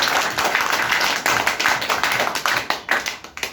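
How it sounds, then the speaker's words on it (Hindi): A crowd at an AWPL training centre in Janipur claps loudly to welcome first-time attendees, a dense, steady burst of applause that turns into a sharper, more rhythmic pattern near the end. "एक बार जोरदार ताली इनके लिए।"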